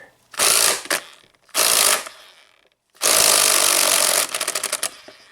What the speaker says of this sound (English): So we're going to set our impact to the left.